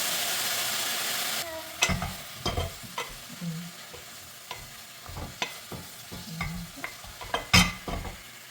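Blanched romanesco cauliflower drops into a hot pan with an initial loud hiss, then is stirred, giving a run of uneven clanks and scrapes over a softer sizzle.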